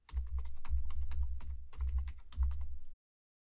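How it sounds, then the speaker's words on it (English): Close, clattering keystrokes on a PC computer keyboard enter a MAC address in quick bursts with short pauses, then stop into silence for the last half second. "We're going to type in the MAC address."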